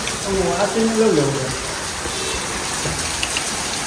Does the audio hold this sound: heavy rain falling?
yes